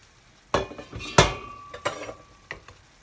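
Calf liver goes into a hot pan for a Venetian-style dish, giving a couple of sharp metallic clanks and scrapes of utensil against pan with faint sizzling underneath, close and otherwise quiet.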